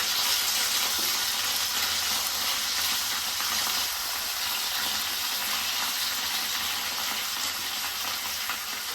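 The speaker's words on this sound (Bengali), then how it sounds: "তারপরে দিয়ে দেবো আদা কুচি আর কাঁচা লঙ্কা কুচি এটা কিছুক্ষণ নাড়াচাড়া করবে" Chopped ginger and green chilli fry and sizzle steadily in hot oil, with faint stirring scrapes, a continuous close hiss throughout while making vegetarian sabu khichuri.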